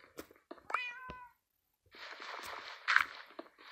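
A Minecraft cat gives a couple of short, near meows, one rising and bending in pitch. Soft footstep-like rustles and a longer scuffling noise follow, with no talking.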